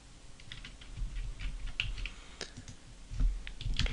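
Quick, light computer keyboard key presses for shortcut commands while working in Maya 3D software, a scattered run of soft clicks and taps at close range with no talking.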